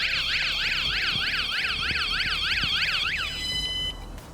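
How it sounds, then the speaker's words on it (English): A Vanguardian security alarm siren blares loud and close, sweeping up and down in a rapid repeating wail, then shifts into a steady high tone before cutting back near the end. "You're going to then follow up with the alarm that's going to be going off to get even more attention."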